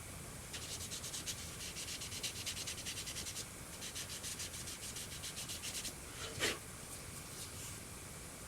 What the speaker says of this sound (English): It's good to do the final sanding here with that piece on there.